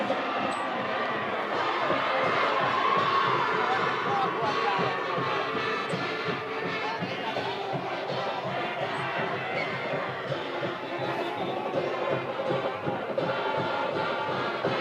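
Football crowd in the stands at a Dallastown vs York High game, cheering steadily after a touchdown, a dense continuous roar of many voices throughout without a clear peak.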